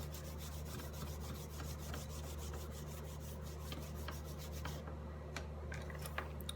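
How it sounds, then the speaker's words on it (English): A spoon burnishes paper down onto a book cover with a steady, quiet rubbing and scraping that runs on continuously with light rhythmic strokes. "I'm going to use my trusty spoon to burnish this down, make sure it's stuck real well"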